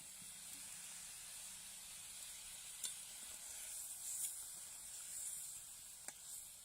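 Pieces of rohu fish sizzling in a hot pan of oil for a spicy fish curry, a quiet steady frying hiss with a few faint pops and stirring clicks, no talking.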